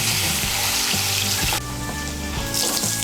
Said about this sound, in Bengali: নুন আর হলুদের গুঁড়োটাকে মিশিয়ে নিয়ে আলুটাকে আমি লাল করে ভেজে নেব।